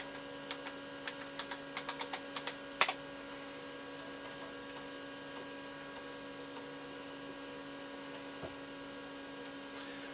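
Keys clatter on an Amstrad PC2286 computer keyboard in a quick burst of separate clicks over a steady electrical hum, then stop, leaving only the hum.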